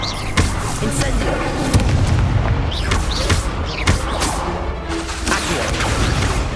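Incendio fire spell blasts in Hogwarts Legacy on PS5 during a duel, a series of loud booming bursts and crackling impacts spread across the span, mixed with other spell effects.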